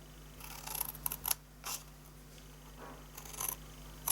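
Scissors snipping through paper card while making a mini tissue holder, a few quick close cuts in short clusters separated by quiet pauses.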